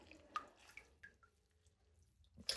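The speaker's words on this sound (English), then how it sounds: "Just going to very gently squeeze out some excess water." Water drips and trickles in small, soft splashes as wet merino wool is gently squeezed, a few quiet, scattered drops with near silence between them.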